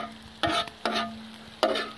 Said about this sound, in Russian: И все это тщательно размешиваем.